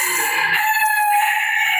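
Chickens clucking and crowing during a poultry vaccination session, a steady bird call holding near and loud for about two seconds with no talk.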